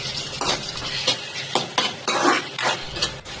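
A ripe tomato is stirred into a frying mixture in a pan while cooking white chickpea kadala curry, giving repeated scraping strokes of a spoon over a steady sizzle, close and fairly loud.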